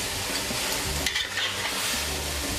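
Salted fish fries in a pan in a Rodrigues Island kitchen, a constant loud hissing sizzle with brief stirring scrapes near the middle.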